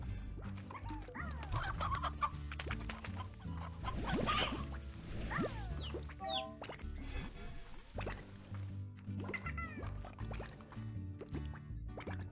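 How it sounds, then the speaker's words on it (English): Stony hen chickens in Slime Rancher clucking repeatedly in short bursts over a low background game hum, with some watery dripping sounds mixed in. "There's chickens. Oh no, it got... There's a stony chicken."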